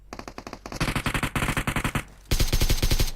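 Rapid automatic gunfire in the mobile shooter PUBG Mobile, with loud, close bursts of evenly spaced shots, a short gap, then another fast, heavy burst.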